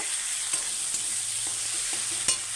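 Bata fish fries with turmeric in a pan while being stirred, giving a steady soft sizzle with a few sharp scrapes and clinks of the utensil spaced through it.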